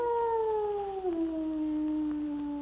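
Dog howling in a long, clear, mournful tone that slides slowly downward and holds, loud and close with no talk over it.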